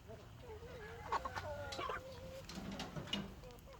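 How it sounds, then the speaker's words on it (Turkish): Australorp roosters crow and hens cluck nearby, overlapping calls rising and falling over steady farmyard background noise. "Baya bir horozumuz var. Bunlar hep horoz arkadaşlar."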